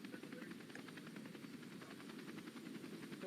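Helicopters flying overhead while tracking a tornado path, a steady broad rotor and engine drone that stays constant and fairly distant throughout, with faint rhythmic chopping.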